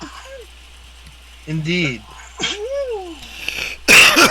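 A single sharp sneeze bursts out near the end, loud and close, after a stretch of quiet talk among people playing a tabletop role-playing game.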